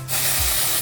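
Dry shampoo sprays from an aerosol can onto the lower half of a person's hair in one short, close, steady hiss with no talking.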